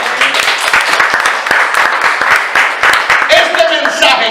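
Congregation applauding during a church sermon, loud sharp rhythmic clapping throughout, with voices and a shout mixed in toward the end.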